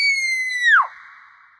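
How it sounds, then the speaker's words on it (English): A single high, piercing scream holds steady, then breaks and drops sharply in pitch before fading into a thin tail, loud and close. "A scream. The kind of scream you hear when you are terrified for your own life."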